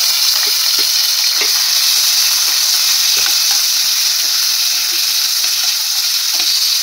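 Onions fry in a pan with bay leaf for prawn gongura. A loud, steady, close sizzle runs throughout, with occasional faint stirring clicks and no voices.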